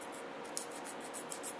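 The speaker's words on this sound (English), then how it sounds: "what I do is just take a fingernail sanding stick" A fingernail sanding stick rubs rhythmically against the lip of a small light bulb for a model truck, quick scratchy back-and-forth strokes, quiet and close.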